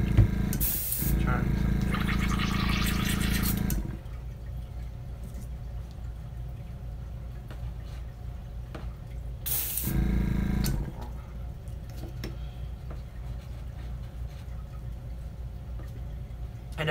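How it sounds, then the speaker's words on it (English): A Master airbrush sprays paint onto a crankbait fishing lure in two close, hissing bursts, a long one of about three seconds and a shorter one later, with quiet room noise and faint handling between them. "if you're wondering what kind of airbrush I'm just using a Master airbrush"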